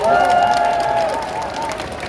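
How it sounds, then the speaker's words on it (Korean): A crowd applauds and cheers steadily at an outdoor presidential campaign rally in Gunpo, South Korea, with a Korean announcer's voice over a loudspeaker ringing across the clapping. "다시 한번 큰 박수 부탁드립니다"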